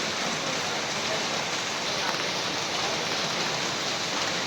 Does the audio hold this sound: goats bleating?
no